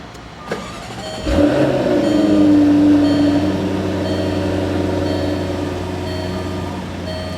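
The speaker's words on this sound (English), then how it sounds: "An absolutely menacing growl." A 2014 Jaguar F-Type V8 S engine cranks with a sharp burst and roars to life, then settles into a loud, deep, steady idle rumble.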